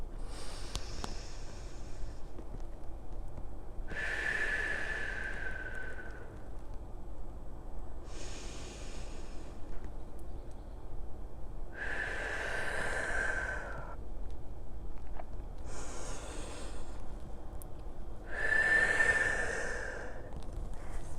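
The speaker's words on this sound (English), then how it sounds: "Three more big breaths." Deep, slow breaths during a whole-body stretching routine: about six long, close inhales and exhales, evenly spaced with quiet gaps between them and no talking.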